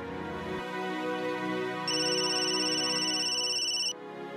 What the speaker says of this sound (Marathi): गो फोन येलो बघ.